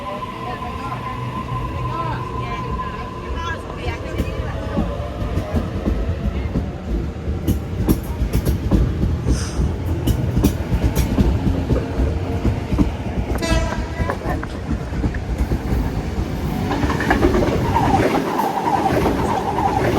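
A train pulls out of Flemington station, its steady rumble and wheel clatter filling the platform with a brief horn-like tone, while people chat nearby and platform announcements sound.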